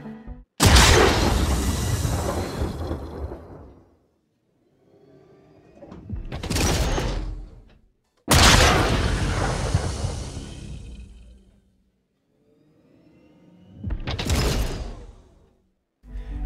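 The Tumbril Nova tank's oversized cannon in a space video game fires twice, each a heavy booming blast with a long rumbling decay, followed by a rising mechanical whoosh as it reloads, repeating in a steady cycle.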